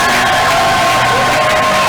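Congregation at a Sunday church service shouting and cheering for joy, a dense, loud crowd roar of whoops and yells sustained throughout.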